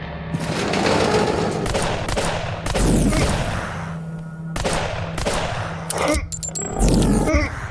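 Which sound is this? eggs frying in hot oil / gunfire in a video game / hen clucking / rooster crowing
gunfire in a video game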